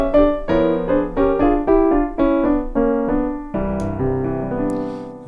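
Jazz piano plays a string of dominant seventh chords voiced in a particular jazz style, about nine separate struck chords in a steady rhythm, each decaying, then longer sustained chords at the end, close and clear with no talking.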